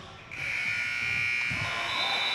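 A loud, sustained electronic end-of-quarter buzzer at a boys' basketball game kicks in after a brief moment and holds steady to the end, over faint crowd noise.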